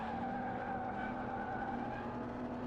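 A tractor in Car Mechanic Simulator spins its tires in a burnout, a sustained squealing skid over a droning engine tone that stays fairly faint and even throughout.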